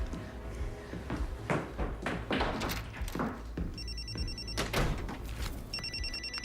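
A house telephone rings twice in a tense drama scene, each ring a buzzy electronic trill over a busy backdrop of rumble, thumps and knocks.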